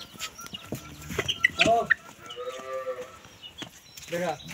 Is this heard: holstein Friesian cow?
yes